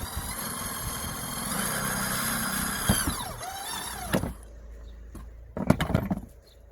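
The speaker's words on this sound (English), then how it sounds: "we're gonna use this bit to drill a hole." A power drill whines steadily for about four seconds, its pitch dropping as it bites into plastic beside a Mercedes-Benz W245 interior door handle, then a few brief spurts of the motor follow.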